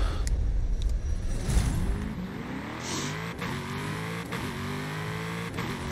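A car engine in Forza Horizon 5 racing, dirt-tuned, revs hard and rumbles, with rising and falling gear-shift sweeps carrying on steadily and close throughout, no voices.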